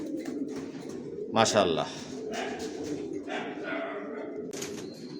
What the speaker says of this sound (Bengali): এখানে এক জোড়া অ্যাডাল্ট কবুতর দেখাচ্ছি